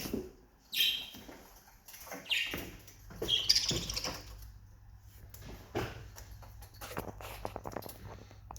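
Pet budgerigars in a cage at a hair salon give sharp, scattered chirps and tweets close by, alongside soft clatter and a low indoor hum.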